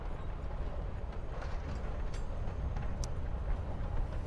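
Interior of a train in the video game Life is Strange: Before the Storm: a steady, low rumbling ambience runs evenly throughout with no voices on top.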